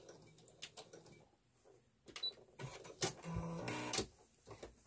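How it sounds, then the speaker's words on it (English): A sewing machine stitching down a fabric notebook cover, quiet at first, then bursts of rapid mechanical whirring that grow louder and denser toward the end, heard close with no talk. "Stitching down, I've got to make sure I leave myself room to turn. Back stitch."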